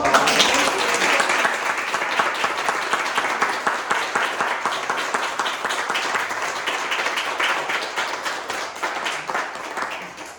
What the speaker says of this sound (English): That was a big round of applause.